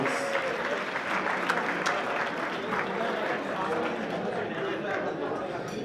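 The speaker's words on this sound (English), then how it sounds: "Go on, round of applause" An audience at a charity auction fundraiser for a Muslim youth centre gives a round of applause, a broad, steady wash of clapping from the room with some chatter mixed in.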